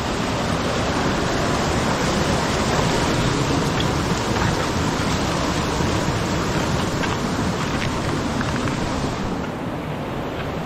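A dense, continuous roar of rushing water fills the whole clip, loud and steady like a waterfall pouring nearby, with no voices.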